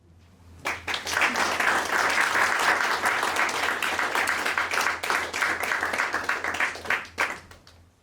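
Audience applause after a public lecture on Wesleyan social ethics, a dense steady clapping that swells in, holds for several seconds, then tapers off near the end without talk.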